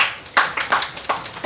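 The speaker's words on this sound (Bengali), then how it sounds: "প্লিজ এদের জন্য একটু করতালি" An audience at a formal server launch ceremony in Bangladesh claps, with a few sharp hand claps in uneven rhythm over a short burst, fairly loud and close.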